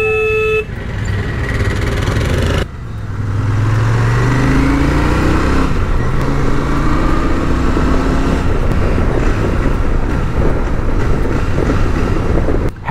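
Engine of a Royal Enfield Super Meteor 650 motorcycle revving in heavy Noida traffic, a steady loud roar with rising and falling tones amid car horns and passing vehicles.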